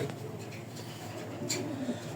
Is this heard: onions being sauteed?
no